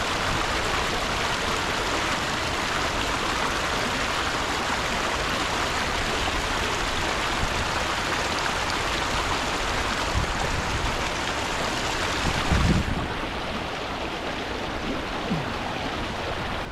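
A fast-moving high-elevation mountain river streams steadily in broadband rushing water, loud and close throughout, with a brief splash and gurgle near the end as a bottle is dipped in to refill.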